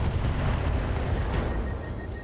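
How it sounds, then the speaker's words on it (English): A prototype heatsink explodes in the RogueTech video game, a dense, steady rumble of blast and roaring noise with faint repeating high electronic tones and no talking. "Prototype heatsink explosion there."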